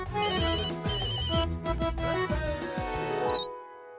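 A mobile phone ringtone plays a repeating melodic tune at close range for about three and a half seconds, then cuts off abruptly into quiet.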